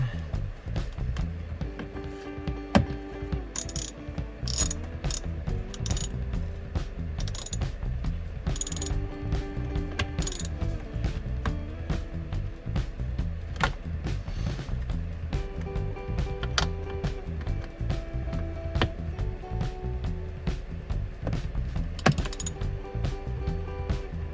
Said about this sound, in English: Pretty tight space to screw your screws in.